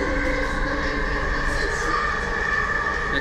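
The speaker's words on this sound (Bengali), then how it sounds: "এমআরটি কিন্তু খুব উন্নত। দেখুন ট্রেনের স্পিডগুলো দেখুন" A Kuala Lumpur MRT metro train runs steadily close by, a continuous loud rumble with a sustained tonal whine throughout.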